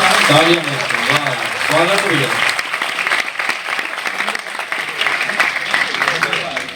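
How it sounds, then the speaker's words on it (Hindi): Audience clapping at a Hindi kavi sammelan in Unnao, a full crowd clapping continuously; a voice speaks over it at the start. "एक बार सारे लोग मिलकर तालियां बजा दीजिए"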